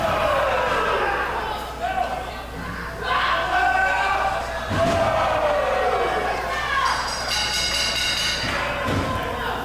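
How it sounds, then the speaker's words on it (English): A large wrestling crowd in Saskatoon roars and cheers loudly and continuously, with swelling shouts and a few thuds from the ring beneath the din. "Now there is a huge pop from the Saskatoon crowd."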